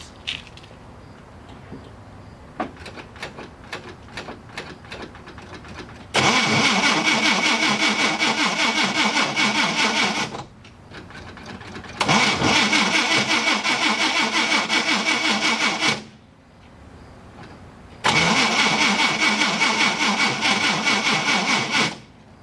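A car engine cranks repeatedly in three long bursts with the battery at 11.68 volts and a charging system fault, the starter whirring loudly each time but the motor never catching, with quiet pauses between attempts.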